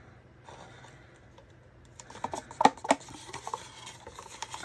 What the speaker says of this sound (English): scrape as much out of this green one as I can